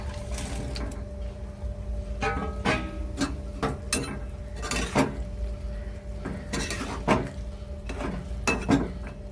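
Chicken pieces go into a pan with soy sauce for chilli chicken, giving repeated close clinks and scrapes of utensil on metal over a low steady kitchen hum, with no talking.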